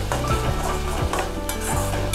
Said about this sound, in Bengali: এবার টক দইটা দিয়েও ভালো করে কষাবো।